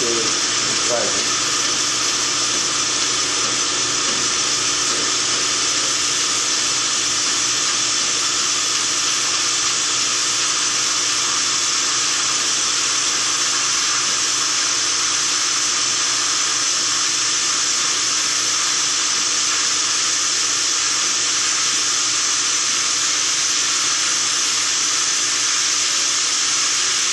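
Steady, loud hissing of steam from a peroxide-methanol turbine fitted to a VW, a constant broadband rush that holds unchanged for the whole stretch.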